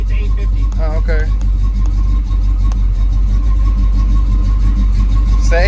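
A car engine fitted with Holley Sniper EFI idles steadily at around 800 rpm, a continuous low hum close by, with people talking over it and a few faint whistling tones.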